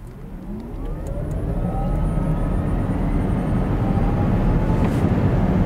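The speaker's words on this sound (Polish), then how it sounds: "tak auto przyspiesza od 0 do setki" Volvo EX90 2025 electric SUV with a 107 kWh battery accelerating from 0 to 100 km/h, a loud rising whine and road roar that swells steadily and stays strong to the end, no talk.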